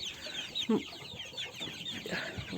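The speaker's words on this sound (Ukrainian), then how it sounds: "Ось подивіться, які тут уже у мене дорослі великі кури." A few soft, large adult hen clucks come through a quiet, noisy background, brief and low, with one clearer cluck near the start.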